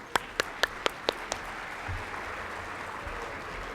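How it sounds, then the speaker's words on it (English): Scattered final claps at the opening of a Catholic foundation event: about six sharp, separate hand claps over the first second and a half, fading into near-quiet room tone. "Another round of applause."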